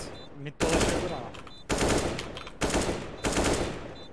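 Rapid automatic gunfire from a tactical shooter game comes in four loud bursts of about a second each, separated by short pauses, with no one talking over it.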